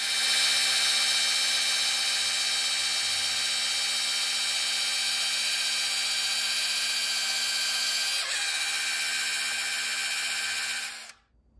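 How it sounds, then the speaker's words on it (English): Makita DHR243RTJ cordless SDS hammer drill running in drill-only mode with no hammer action, a steady high-pitched whine held near and loud for about eleven seconds before cutting off. "I will put a video up now of me drilling with the drill only function."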